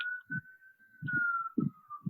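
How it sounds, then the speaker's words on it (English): A steady high wailing tone drifts faintly in the distance like a siren, with short low thumps breaking in intermittently. "I apologize for the siren in the background."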